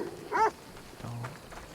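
A dog in Assassin's Creed Odyssey gives a single short, sharp bark, then a lower growling rumble follows, both fairly close and with no talk over them.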